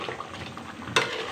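Paneer pieces stirred into chicken gravy in a pot, a soft wet scraping and sizzling swirl with a slightly sharper clink of the spoon near the end, close and quiet.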